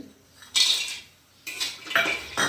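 Metal utensils scrape and clatter against a pan as roasted peanuts are scooped out, making four distinct bursts of clinking and rattling with brief quiet gaps between them, close and fairly loud.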